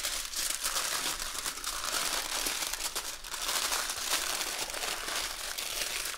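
Aluminium foil, about 20 inches long, is rolled into a rope while steaming a chocolate cake, producing continuous dense crinkling and crackling close by with no pauses.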